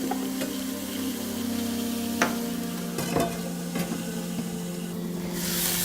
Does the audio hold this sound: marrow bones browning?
yes